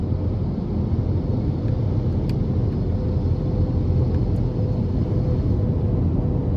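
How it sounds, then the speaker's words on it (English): Cabin road noise in a 2023 Ford Escape Active FWD 1.5T cruising an older stretch of interstate: a loud, constant low rumble and tire roar that holds steady throughout, with no speech. "Just hearing a little bit of road noise here, but this is an older stretch of interstate."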